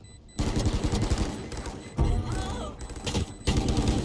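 Loud bursts of automatic gunfire in the shooter game Valorant, three rapid volleys separated by short gaps, with a voice talking faintly in the background.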